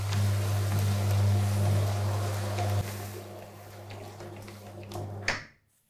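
An AOK radio roller shutter motor hums steadily while raising the shutter, then cuts off, leaving a quieter rolling rattle that ends with a short knock and silence.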